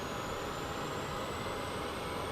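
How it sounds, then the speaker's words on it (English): Boeing 737 MAX 8 engines spool up in a flight simulator, a steady broadband roar with a slowly rising whine, heard from outside the aircraft and without voices. "These damn lap engines take forever to start."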